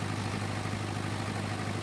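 A tractor engine idles with a steady, low, even rumble, close by and unchanging throughout.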